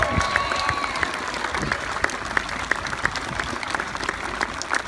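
Crowd applauding and cheering at a fight demonstration, steady dense clapping with sharp individual claps popping out, spread across the whole stretch at a moderate, even level.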